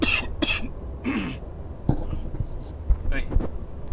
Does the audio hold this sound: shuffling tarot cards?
no